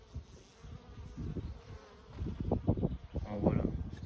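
Honeybees buzz at the entrance of a hive as foragers return with pollen, a close, steady hum that grows louder and busier toward the end, with no talking.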